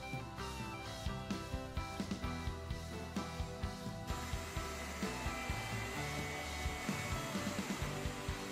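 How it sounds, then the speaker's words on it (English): A hairdryer blows continuously, drying acrylic paint on the back of a wooden base, a soft, steady whir with faint regular pulses, quiet and alone. "which I will also dry with a hairdryer"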